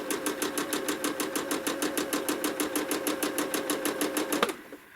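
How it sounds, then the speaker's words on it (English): A sewing machine set to slow speed stitches in the ditch around an applique motif for freehand quilting, a steady even run of rapid needle strokes, close and clear, that stops abruptly near the end. "I'm putting my foot on the pedal very slow, all the way down, but the machine's going to stitch slowly for me"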